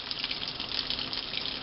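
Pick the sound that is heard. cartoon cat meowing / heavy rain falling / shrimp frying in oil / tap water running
tap water running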